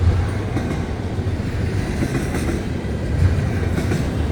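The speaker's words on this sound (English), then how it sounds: "See the train speeding up?" A train on rails rolls steadily close by, loud and continuous, with rumbling wheel noise and faint clickety-clack that builds slightly toward the end as it gathers speed; no talking.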